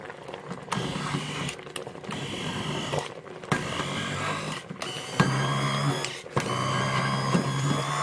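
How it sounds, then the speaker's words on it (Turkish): A kitchen blender chops peaches for marmalade in short, close bursts, its motor whirring and pitching up with brief pauses between pulses. "Blender'ıma çalıştırayım."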